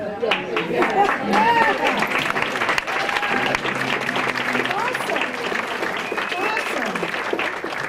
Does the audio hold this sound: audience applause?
yes